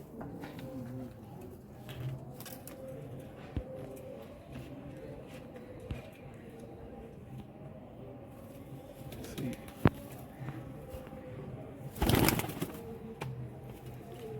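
Pigeons from a racing loft in Gurdaspur circle overhead, their soft cooing and fluttering carried faintly outdoors, with a burst of wing flapping and a few sharp knocks rising above the steady low background.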